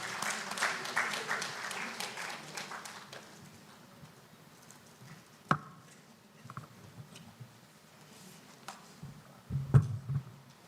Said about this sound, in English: can we give a round of applause to Mr. Silla?